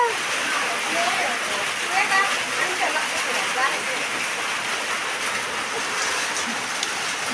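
Steady rain pours down in a dense, even hiss that does not let up, close to the microphone and filling the whole stretch. No one speaks over it.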